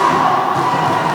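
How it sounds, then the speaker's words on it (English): Canadian supporters cheering and shouting at a women's dodgeball bronze medal match against Australia at the 2019 Dodgeball World Championships, a steady loud crowd roar with no pauses. "Canada cheering."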